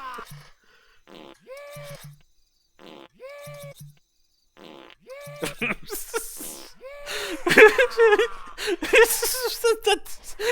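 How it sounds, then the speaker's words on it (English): Cartoonish fart sound effects in the Redneck Rampage video game, repeated in short bursts that later mix with a person's laughter and chatter. "Is it right before a fart?"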